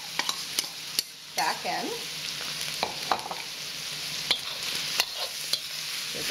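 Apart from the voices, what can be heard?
stir-frying pork with mushrooms and dried shrimp in a pan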